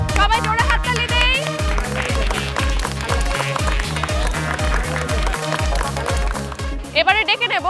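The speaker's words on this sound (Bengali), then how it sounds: "চলে এসো সবাই, জোরে হাততালি দেই।" An audience of children claps for a prize winner at a fun event, brisk rhythmic applause that fills the space, loud and close, tapering near the end.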